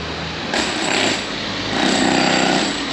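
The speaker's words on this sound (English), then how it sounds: "Got a pneumatic drill here." A pneumatic drill breaks up pavement at roadworks on a closed street in Santa Ponsa, Mallorca, a loud, continuous rapid hammering that kicks in after a brief lull and grows harsher toward the end, close by with no voices.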